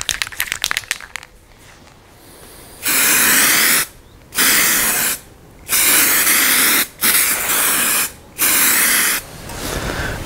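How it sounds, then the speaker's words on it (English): Zinc spray paint hissing from an aerosol can onto rusty sheet metal inside an old truck cabin, five loud bursts of about a second each separated by short pauses, after a few faint rattles, no voices. "we're going to paint that as well with the zinc spray so it is protected against corrosion"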